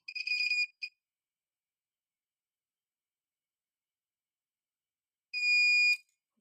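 Two high-pitched electronic beeps from a multimeter's continuity buzzer while testing laptop components, the first short and stuttering, the second a steady half-second tone, separated by several seconds of silence.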